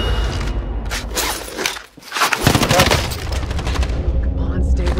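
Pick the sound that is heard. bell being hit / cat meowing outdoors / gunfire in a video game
gunfire in a video game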